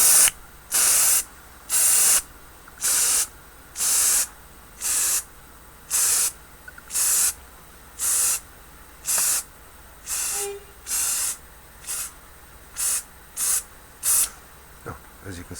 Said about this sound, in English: It's cheap pound shop hairspray, just perfect for what I need.